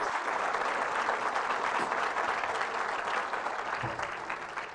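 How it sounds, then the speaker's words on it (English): A church congregation breaks into broad applause, a dense wash of clapping heard at moderate distance that holds steady and eases off slightly at the end. "Big round of applause."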